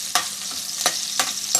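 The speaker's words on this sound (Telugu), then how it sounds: "పచ్చిమిరపకాయలు వేసుకొని కొంచెం వేగాక వేగనిద్దాం." Green chillies frying in a pan for egg fried rice, with a steady sizzle broken by sharp bursts of stirring, about four in a short stretch, close and fairly loud, no voices.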